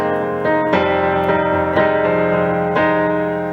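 Piano playing a minor chord, struck notes sustaining and ringing together, a few chords played in succession, no voices.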